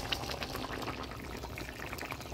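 Shrimp slide into a simmering pumpkin curry broth, giving a faint, steady wash of bubbling and pouring liquid with no voices.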